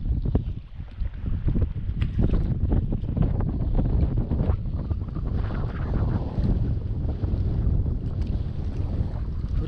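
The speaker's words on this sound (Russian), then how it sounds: "Да, сегодня ветер, волна бомбическая." Strong wind buffets the microphone with a steady roar, while waves slosh and splash against a boat beneath it during carp fishing.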